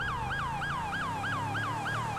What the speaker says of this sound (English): he's changing sirens on me